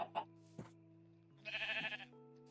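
A Minecraft sheep bleats several short times, faint and close, with a longer wavering bleat in the middle; brief gaps of near silence separate the calls.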